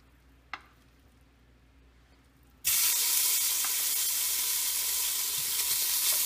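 Bacon dropped into a hot pot for smoked cabbage: after a quiet stretch with one small knock, a loud, dense, steady frying sizzle bursts in and holds close to the end.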